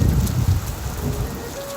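Heavy rain pours down in a steady, dense roar, with low rumbling beneath it and no voices.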